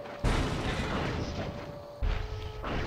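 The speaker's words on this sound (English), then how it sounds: "You say as she shoots the ground you're standing on" Gunshots fired at the player in a Sly Cooper game, two sharp loud bangs about two seconds apart, each followed by a ringing tail over a busy game background.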